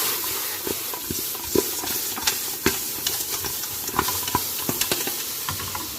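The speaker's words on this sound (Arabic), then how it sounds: "صافي غادي نبدا نقلب في اللحم" Meat being fried in a pot for a plum dish gives a continuous hiss and sizzle, broken by frequent sharp spoon clicks and scrapes as it is stirred.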